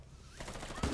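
Gunfire from Rainbow Six Siege, a quick cluster of shots that builds to a louder burst at the end, fairly quiet overall with little talk.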